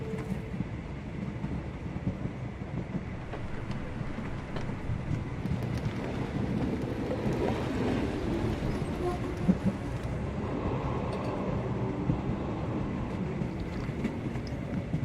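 A train runs in the Sherlock Holmes: The Awakened video game, a steady, dense rumble with wind-like hiss that continues unbroken, moderately loud, with no voices.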